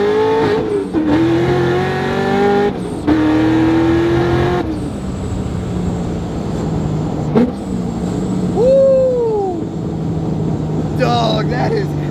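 A loud, boosted C6 Corvette accelerates hard in first gear with no traction, its engine rising in pitch, cutting out at shifts and revving again. Voices talk over the roar.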